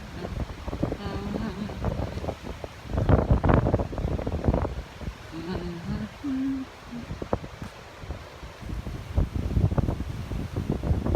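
Wind blows outdoors, buffeting the microphone with uneven rumbling gusts throughout, while a few faint tonal sounds rise and fall in the background.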